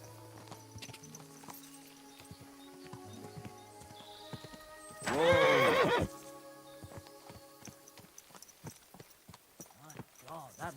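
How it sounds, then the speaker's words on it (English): In the video game Kingdom Come: Deliverance II, a horse gives a loud, close whinny partway through, framed by quieter clip-clop of hooves and faint voices in the background. "Looks like a bloody expensive horse."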